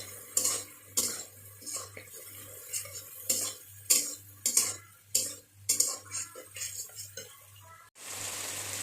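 A spoon scrapes and clinks repeatedly against a pan while stirring a potato, brinjal and fish curry, in steady rhythmic strokes close by, with a faint low hum beneath and a brief burst of sizzling at the end.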